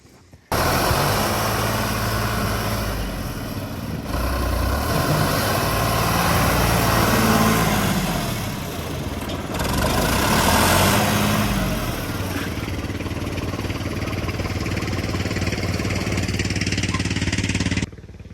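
A large tractor engine runs steadily nearby, loud and continuous, rising and falling slightly in pitch as it works, with no voices over it.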